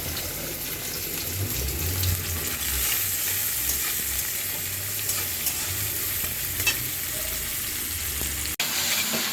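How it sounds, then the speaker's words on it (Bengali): Onion and garlic fry in a pan, then Malabar spinach goes in, giving a steady close sizzle with occasional stirring clicks and a brief sharp knock near the end. "পেঁয়াজ রসুন বাদামি করে ভেজে এখন শাকটা বাগার দিয়ে দিলাম"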